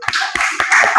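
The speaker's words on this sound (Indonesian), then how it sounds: "Kasih aplaus dulu buat kalian." Brisk hand clapping for students in a classroom, a handful of close, sharp claps in quick succession.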